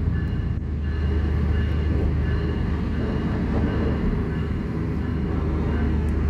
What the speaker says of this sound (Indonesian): Dan ini ya kereta api Gaya Baru Malam Selatannya masuk ya.